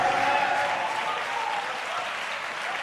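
Church congregation clapping hands during a Malayalam worship service, a dense steady burst of applause with voices mixed in, fading a little toward the end.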